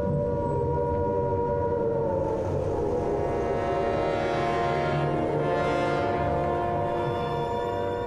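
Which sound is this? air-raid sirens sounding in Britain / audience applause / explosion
air-raid sirens sounding in Britain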